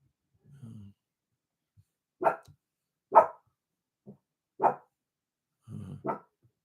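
A senior dog barks in short, separated single woofs, about five of them spaced a second or so apart, close and clear against a quiet background.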